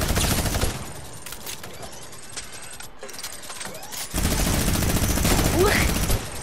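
Rapid automatic gunfire in Fortnite rattles throughout in dense bursts, with a brief lull midway before another loud volley, while voices talk underneath.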